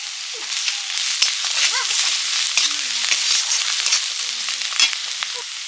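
Spice paste of chilli powder, salt and green chilli frying with a splash of water in a pan, a continuous loud sizzle and crackle with occasional stirring scrapes.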